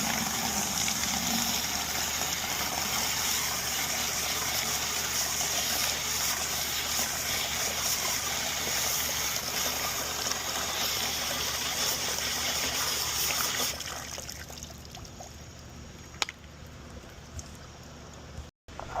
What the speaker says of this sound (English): We will first give it a good rinse into a bucket to remove some calcium.